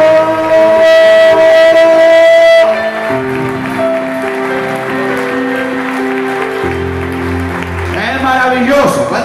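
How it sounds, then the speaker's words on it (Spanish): A congregation at a church service applauds, a broad sustained wash of clapping mixed with organ-like music and a voice, swelling briefly near the end. "Denle un fuerte aplauso a los milagros."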